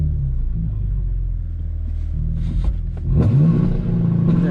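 A 2021 BMW M3 with manual transmission idles with a deep, steady rumble, then its engine revs up sharply near the end as it readies for a launch-control start, loud and close with no talk.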